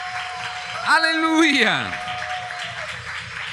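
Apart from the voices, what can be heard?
church congregation applauding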